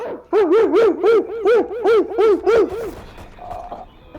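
A person named Memo imitates a dog with his voice, giving eight rapid, evenly spaced yelping barks, close and loud, before trailing off into quieter noise.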